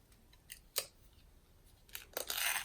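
Scissors snip through ribbon at an angle for a bow on a Halloween ghost sucker, with a few quiet crisp cuts followed by a louder, sustained rustling snip at the end, close up with no talk.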